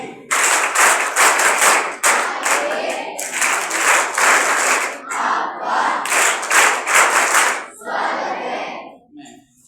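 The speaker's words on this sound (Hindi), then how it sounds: "और इससे पहले हम सभी स्वागत ताली।" A crowd at an official welcome ceremony for the chief guest, a senior deputy collector, breaks into loud, rhythmic clapping in bursts with some cheering, then thins out and stops.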